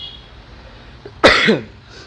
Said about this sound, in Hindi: सर्दियाँ आ रही हैं, खांसी तो बनती है।